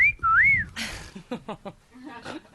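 A man gives a loud, close two-part wolf whistle at a woman, a sharp rising note followed by a swooping one. Talk and banter follow right after.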